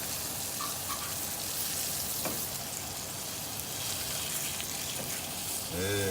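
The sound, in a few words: round steak browning and sizzling in a pan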